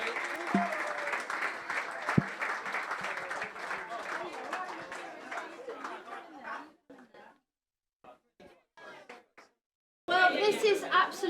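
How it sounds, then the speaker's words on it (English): An audience claps for a team called onto the stage at a charity celebration event, a sustained round of applause with voices and chatter mixed in that fades into scattered claps and brief silence before talking resumes. "if you're going to round of applause for the DS Eagles to come on stage and get their cheque"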